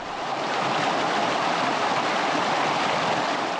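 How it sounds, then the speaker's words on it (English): Steady, broad rushing of running stream water in a green oasis above Lahaina in West Maui, continuous and fairly loud with no voices. "there's an oasis of green filled with the sounds of running water."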